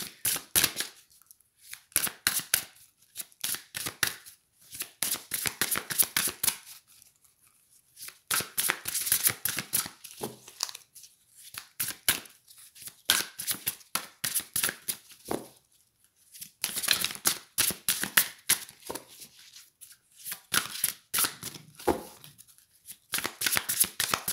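Tarot cards being shuffled repeatedly in bursts of quick riffling slaps, close and crisp, with short pauses between rounds and no voice over it.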